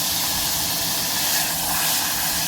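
Mustard seeds sizzling in hot oil, a dense, even, loud hiss held steadily throughout at close range, with no voices.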